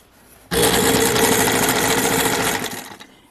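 A sewing machine runs in one steady burst of stitching for about two and a half seconds, close and loud, as it sews down a fold on a fabric grocery bag before stopping.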